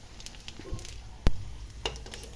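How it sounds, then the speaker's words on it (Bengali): Phuchka puris frying in hot oil make a quiet, steady sizzle with a few sharp pops and crackles, one louder snap near the middle. "দেখো তেলের মধ্যে ছাড়লেই এগুলো পুরো ফুচকার আকার তৈরি হবে"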